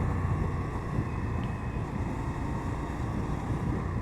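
Indian FTR 1200 motorcycle cruising in fourth gear at about 56 mph and just over 4,000 RPM, a steady loud engine drone mixed with heavy wind rush, with no pauses or changes throughout.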